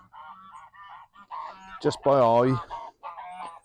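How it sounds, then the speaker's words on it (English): Geese honk loudly and close by, in repeated nasal calls that swell into one long, strained honk, in a no-dig vegetable garden during potato planting; someone speaks briefly over the birds. "You have to excuse my noisy geese."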